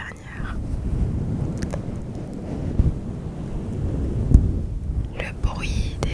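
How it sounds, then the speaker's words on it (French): Low rumbling surf with a steady wash of water and gusty wind noise, fairly loud and continuous, with a few brief soft bumps. "Le bruit des vagues t'apaise de plus en plus."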